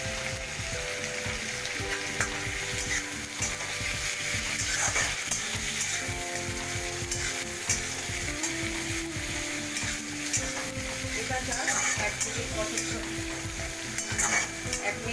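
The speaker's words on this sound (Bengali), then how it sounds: "এবার এর মধ্যে আমি টমেটো কুচি আর লঙ্কার কুচিটা দিয়ে" Chopped tomato and green chilli fry with lightly browned onion in a pan for a prawn curry with potato and pumpkin. A steady, close sizzle plays alone, broken by repeated scraping and stirring sounds.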